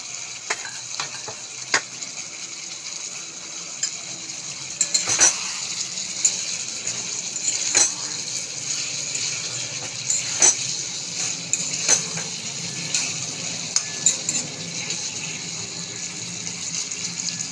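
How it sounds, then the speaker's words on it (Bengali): Prawns frying with taro and potato in a pan, a steady close sizzle with scattered sharp crackles and stirring scrapes repeating irregularly over a constant hiss. "চিংড়ি মাছটা দিলে একসঙ্গেই কষিয়ে নিতে পারবো"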